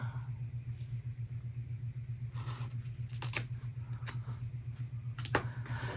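Paper being trimmed with scissors gives several short, crisp snips spread over a few seconds over a low steady hum, with no talking.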